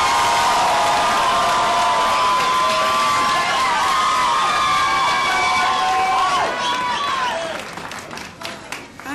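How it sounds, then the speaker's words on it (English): A crowd at an outdoor protest over a smoking ban applauding and cheering for a speaker, a loud, dense wash of clapping and voices with a few whistles, easing off near the end. "A round of applause for Eleanor from Illusions."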